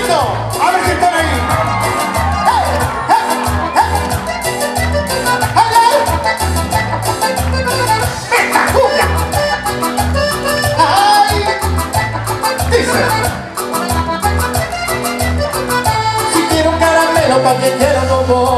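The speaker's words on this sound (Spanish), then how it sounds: "¡A las palmas, vamos! ¡Peguen un grito!" Concert crowd in full voice, cheering, whooping and shouting continuously over loud music with a steady thumping beat, the noise swelling and dipping but never stopping across the whole stretch.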